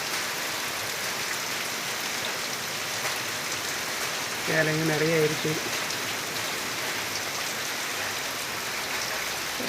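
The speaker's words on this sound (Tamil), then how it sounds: "பாருங்க, நல்ல மழை பெய்துட்டுருக்கு." Heavy rain pours steadily and densely throughout, a constant close hiss of drops on surfaces, with a brief burst of a man's speech in the middle.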